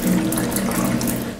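Cold water running from a tap in a dormitory, a steady, close hiss and splash that continues without pause for the whole short stretch.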